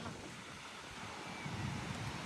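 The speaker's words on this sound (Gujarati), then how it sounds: "બહુ જ અહીંયા વેવ આવે છે, સાથે પવન પણ એટલો છે" Sea waves washing onto a beach with strong wind buffeting the microphone, a continuous rushing surf close by with a slightly louder swell near the end.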